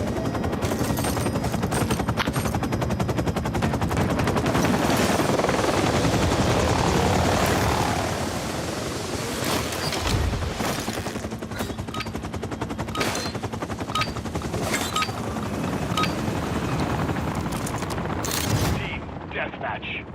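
Vaznev SMG fire in a video game match comes as dense, sustained automatic bursts over a loud continuous background roar, followed by separate sharp shots and short bursts.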